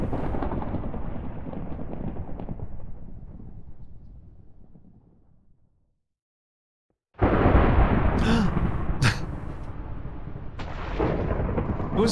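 Thunder from a lightning strike in a Minecraft game, a loud rumbling crash that fades to silence before a second heavy roll of thunder bursts in and lingers.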